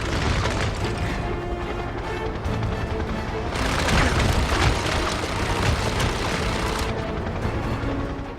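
A machine gun fires in sustained bursts from an attacking helicopter in the video game 007: Blood Stone, loud and dense with booming impacts, the rattle swelling midway and easing near the end.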